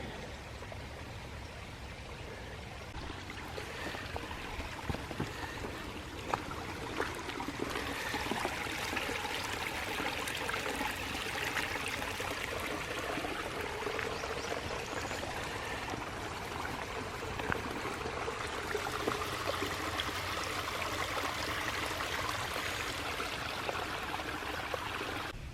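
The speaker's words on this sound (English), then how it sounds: "There's a lot of water running down into the lake." Water runs steadily down a muddy forest trail into a lake after a night of rain at Jefferson Memorial Forest, a continuous close rushing and trickling wash that holds at an even level throughout.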